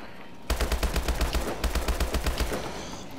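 Rapid automatic gunfire from Call of Duty: Advanced Warfare Exo Zombies Infection, a dense run of sharp shots that starts abruptly and keeps going steadily for about three seconds with no talk over it.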